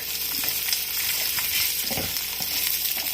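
Chopped onions and dried red chillies fry in hot oil with a loud, dense, continuous crackling sizzle, close up, and irregular stirring clicks mixed in. No one speaks.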